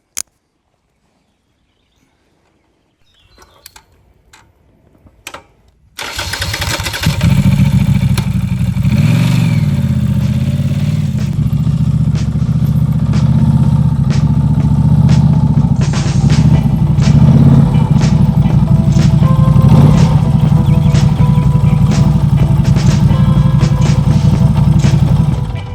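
A Norton Commando 961 motorcycle engine starts after a few clunks and settles into a loud, steady, throaty idle with a deep rumbling pulse that carries on continuously.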